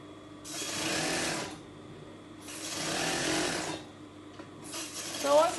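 A sewing machine stitches a cushion cover in three bursts of rapid mechanical whirring, separated by short pauses, close and steady.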